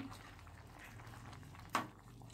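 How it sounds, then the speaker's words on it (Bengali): A chickpea, pea and paneer curry simmers in a pot, giving a faint, low bubbling with one sharp pop near the end, quiet and close with no voices. "এবার এটা কিন্তু একটু ফুটুক খুব ভালো করে"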